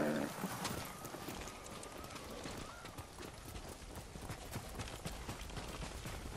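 Horses in Ghost of Tsushima trot along with a steady, brisk clip-clop of hooves and a brief whinny near the start, under constant outdoor ambience.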